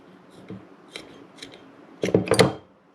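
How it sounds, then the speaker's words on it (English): Scissors snip the tag end of fishing line after a knot is tied to a reel spool: faint, scattered cuts early on, then a louder cluster of three or four crisp close snips near the end. "Trim off our tag end once again."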